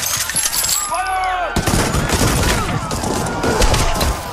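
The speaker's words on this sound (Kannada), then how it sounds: "ಆದರೆ ಅವರನ್ನೂ ಬಿಡದ ಬ್ರಿಟಿಷ್ ಸೈನಿಕರು ಮನಸೋಹಿಚ್ಚೆ ಗುಂಡು ಹಾರಿಸಿದರು." Gunfire sound effect of British soldiers firing: a whistling, ringing tone, then from midway a dense crackling fusillade of rapid, overlapping shots continuing loudly to the end.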